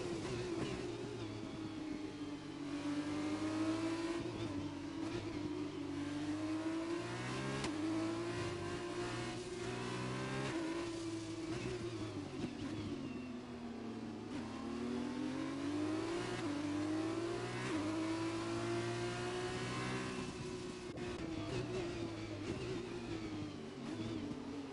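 Formula 2 cars in the F1 2021 video game at the Singapore street circuit, engines revving and accelerating continuously with rising and falling pitch through gear changes, loud and sustained with no voices.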